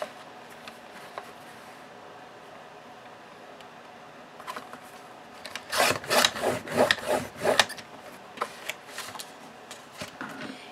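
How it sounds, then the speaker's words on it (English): Scissors slicing through a paper cover for a file folder mini album, a cluster of crisp rasping cuts bunched in the middle after quieter scattered rustles, close and fairly loud with no talking. "We'll just take our scissors and finish the cut."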